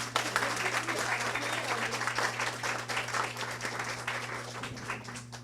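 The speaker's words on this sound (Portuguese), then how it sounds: "Uma salva de palmas, mulherada." An auditorium crowd of women at a real estate event claps steadily and fairly loudly, with a constant low electrical hum running underneath the whole time.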